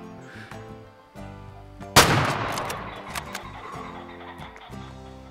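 A single rifle shot aimed at a pheasant in Way of the Hunter cracks sharply over game music and decays into a rolling echo.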